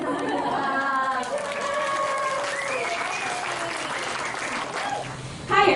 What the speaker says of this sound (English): Everybody give a big applause.